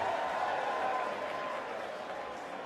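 Darts crowd applauding a 141 checkout in the PDC Grand Slam of Darts final, a short steady wash of clapping from a large arena audience, fairly distant and slowly fading.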